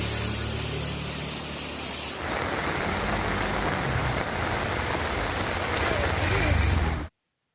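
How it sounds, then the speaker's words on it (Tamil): Heavy rain falling in Vedaranyam, a dense and steady hiss of downpour that grows heavier after the first couple of seconds, loud and continuous until it cuts off abruptly. "இதனிடையே வேதாரண்யத்தில் 3வது நாளாக கனமழை பெய்தது."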